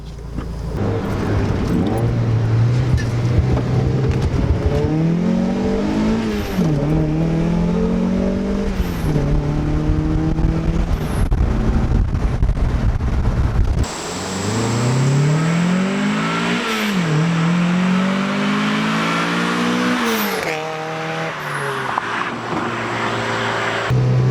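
A turbocharged Mazda Miata drift car with a budget fuel pump pulls hard, its engine note climbing and dropping through repeated gear changes. Loud, close revving rises in sweeping pitches, with a lift-off and a second aggressive pull.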